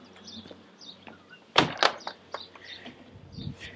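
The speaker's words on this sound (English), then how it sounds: "And then if you unlock the door," A church door under renovation is unlocked and opened, with a sharp metallic clack and a second clunk midway through, close and fairly loud, surrounded by faint room noise and light scuffs.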